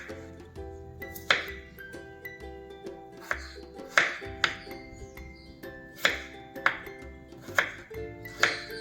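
A knife chopping potatoes on a cutting board, a steady series of sharp taps roughly every half second, close and clear over faint background music.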